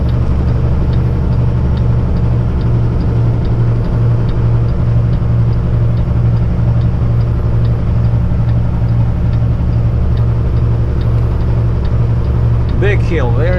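A Kenworth heavy truck climbs a very big hill in fourth gear, low range, crawling along at about 22. Its diesel gives a constant, close, low drone with an even throb for the whole stretch.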